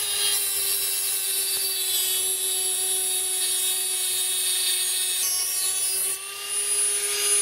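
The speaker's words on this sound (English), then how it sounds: "I might just Dremel these off so I know how much room I've got to work with" High-pitched continuous whine of a Dremel rotary tool cutting off rusty bolts on a Pajero spare wheel mount, steady and close throughout with a brief shift in tone near the end, no speech.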